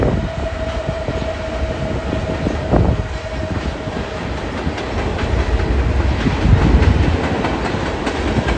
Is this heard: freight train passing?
yes